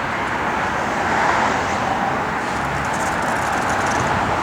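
A 1956 Chevrolet 210 with an original Powerglide automatic transmission cruising down the road, heard as a steady broadband road and engine roar that holds even and loud throughout, with no talking.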